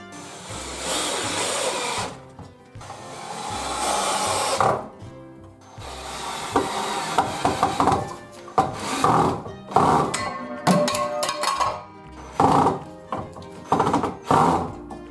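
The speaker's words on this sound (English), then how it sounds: "pre-drill the hole first and then drive your screw in." A drill drives a Phillips head screw into scrap wood without a pre-drilled hole, giving bursts of loud whirring and grinding with short pauses, ending in choppy stuttering pulses as the bit slips in the screw head.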